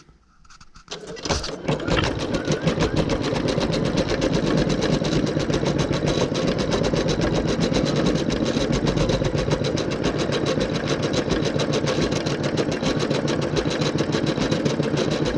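Bernette B79 embroidery and sewing machine starting up and then running in a fast, steady, continuous mechanical rhythm, close and loud.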